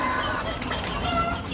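Frightened pigeons flapping their wings in a flurry, a dense close fluttering rush that continues throughout the short moment.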